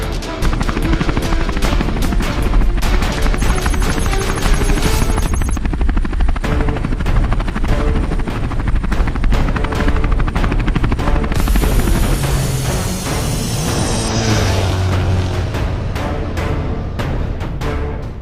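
A helicopter thunders loud and close, its rotor chopping steadily, with engine whine and swelling noise throughout.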